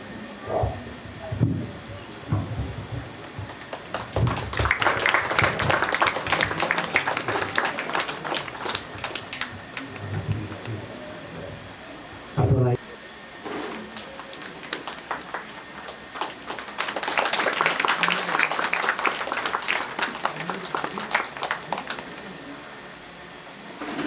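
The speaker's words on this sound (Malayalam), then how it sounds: "അതിലേക്ക് നമ്മൾ എല്ലാവരും ഒന്ന് കൈയടിച്ച് ആ സന്തോഷം രേഖപ്പെടുത്തണമെന്ന് അറിയിക്കുന്നു" Two rounds of applause from an audience, each lasting several seconds, separated by a quieter stretch with a brief sharp knock.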